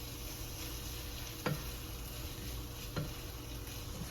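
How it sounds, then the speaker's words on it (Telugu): Ginger garlic paste frying in butter gives a steady, close sizzle, broken by two sharp stirring clicks from a utensil against the pan. "ఇది కొద్దిగా మళ్ళీ పచ్చి స్మెల్ పోయేదాకా ఫ్రై చేసుకోవాలి."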